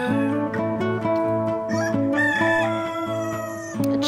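Backyard heritage hens making a dense, continuous run of crowing and clucking calls, close and fairly loud, with no talking over them.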